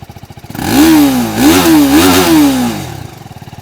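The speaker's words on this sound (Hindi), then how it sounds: "अब एग्जॉस्ट नोट कैसा है चलिए वो मैं आपको सुना देता हूँ इसका।" A TVS Apache RTR 310 with a 312 cc single-cylinder, liquid-cooled DOHC engine idles, then is revved loudly through several rising and falling blips before settling back to a steady idle, close to the microphone.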